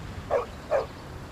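A dog gives two short barks spaced a fraction of a second apart, moderately loud over a low background hum on a village lane.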